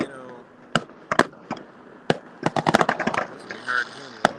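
Fireworks explode outdoors at a live event, a series of sharp cracks and bangs, some isolated and others in a rapid cluster near the middle, with people talking in the background.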